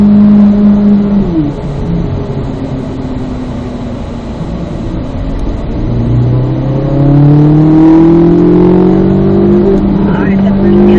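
Race car pulling in third gear on a track, the engine's steady drone rising in pitch as it accelerates, with an instructor talking over it from inside the cabin.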